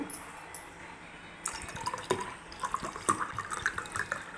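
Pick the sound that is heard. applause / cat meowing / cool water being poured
cool water being poured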